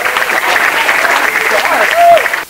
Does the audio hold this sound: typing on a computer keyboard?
no